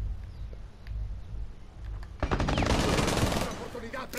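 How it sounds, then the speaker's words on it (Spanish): Gunfire in Rainbow Six Siege fighting in a basement: low ambient hum for two seconds, then a sudden loud burst of rapid shots that continues densely for about a second and a half before thinning out. "Disparos en el sótano."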